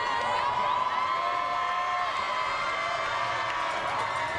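Panther fans at a Florida 7A high school football playoff game between the Plant Panthers and the Lakeland Dreadnaughts roar and cheer in a steady, dense crowd wash with occasional whoops, heard from a distance throughout.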